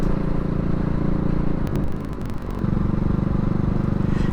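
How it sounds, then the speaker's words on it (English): A CCM Spitfire Bobber motorcycle running, with a loud exhaust and a free-flow air cleaner: a throbbing, close engine rumble with audible intake noise, steady and unbroken by talk. "Exhaust's quite loud, and the free flow air cleaner also gives a bit of intake noise."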